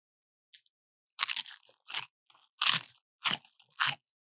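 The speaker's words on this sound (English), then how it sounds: "Chef Dave just hooked us up with some nice crunchy pizza." Several loud, crisp crunching bites into crusty reheated vegan pizza, close up, spaced irregularly with brief pauses of chewing between them.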